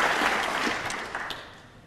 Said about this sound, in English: Crowd appreciate it.